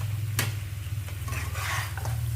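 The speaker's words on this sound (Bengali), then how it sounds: "আর কি, মটন রান্না করছি।" Mutton sautéing in a pan in a home kitchen, with a steady low frying sizzle, a sharp spoon tap against the pan and soft intermittent stirring and scraping close by.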